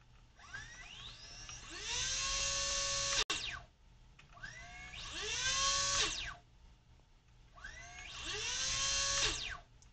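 A homemade brushless motor with strong magnets and a dual shaft spins with no propeller on a DIY controller, whining up in rising pitch, holding a loud high buzz, then cutting off, repeated three times up close.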